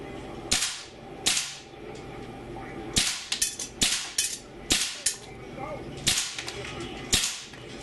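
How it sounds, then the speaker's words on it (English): A WE AK74-UN gas blowback open-bolt airsoft rifle fires a series of sharp, loud cracks, mostly single shots spaced irregularly with a few quicker pairs, at close range. "Okay guys, so we're shooting at about 15 to 16 feet."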